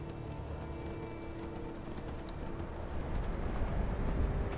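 Horse hooves clip-clopping in Skyrim, a steady patter of hoofbeats over a noisy outdoor game ambience, growing slightly louder and busier toward the end.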